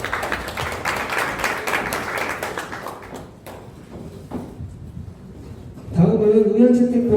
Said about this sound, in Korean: 서울 강남 JC에 다시 한번 큰 박수로 축하해 주시기 바랍니다